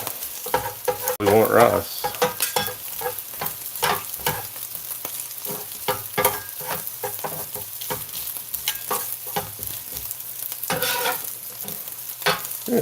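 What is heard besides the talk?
stirring and breaking up sweet chili pork fried rice in a pan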